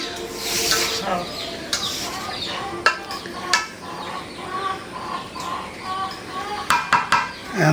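Mashed bharta gets a final stir in a pan, with a utensil scraping and knocking in irregular bursts through the clip while a voice talks nearby.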